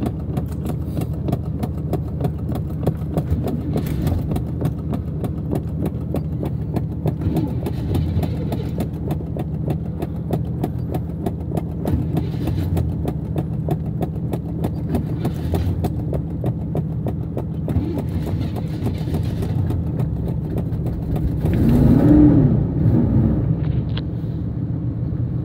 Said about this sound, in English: Motorhome running.